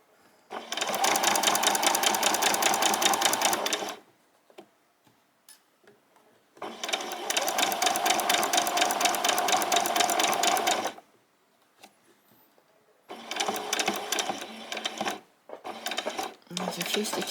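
A domestic sewing machine stitches across an apron along an ironed line, whirring loudly in three long runs separated by brief pauses, with short stop-start bursts near the end.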